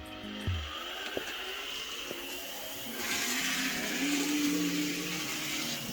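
Small Fleischmann 7218 N-scale model locomotive with an ordinary three-pole brushed motor running on track, a steady mechanical whir that grows louder and busier partway through, with no talking.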